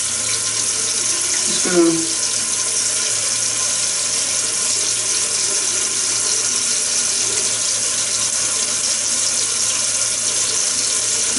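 Tap water runs continuously into a sink while someone washes their face during a wet shave, a steady close hiss throughout with a brief spoken phrase near the start.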